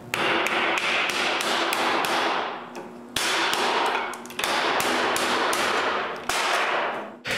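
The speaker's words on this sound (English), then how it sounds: "I fold the metal by clamping it between two pieces of hardwood and hitting it with a" A mallet knocks on a block of wood to fold sheet metal clamped between two hardwood pieces while building a wooden bandsaw; close, sharp, rapid taps come in several quick bursts with brief pauses between them and no talking.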